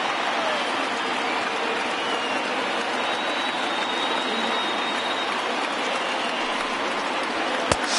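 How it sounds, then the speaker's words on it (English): Small crowd at a professional baseball game rising to its feet, a dense, continuous wash of clapping and cheering that stays level throughout, with a single sharp knock near the end. "this small but vocal crowd come to their feet"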